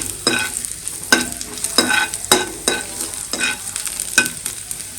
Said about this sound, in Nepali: मैले कुटेर राखेको लसुन छ त्यसलाई पनि हाल्दिएँ